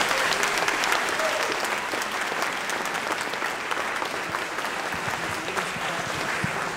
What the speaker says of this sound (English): Let's give all our kids one more round of applause.